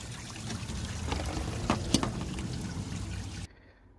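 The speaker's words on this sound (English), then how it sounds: "you will lose some antifreeze that's still in the system" Antifreeze trickles and splashes out as the thermostat housing is loosened on a 7.3 Powerstroke engine, a steady close pour with a couple of sharp clinks midway, ending abruptly.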